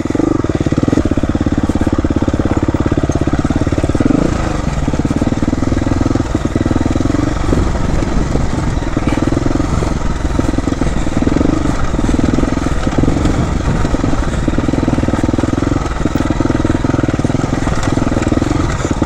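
Dual sport motorcycle grinding over a rocky trail on Redonda Ridge, its mid-pitched engine droning steadily and loud throughout with a pulsing rhythm as the throttle rises and falls, rocks knocking underneath.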